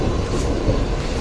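A Jan Shatabdi passenger train at Thane station gives a steady low rumble with a faint rattling texture, loud and continuous for a short moment.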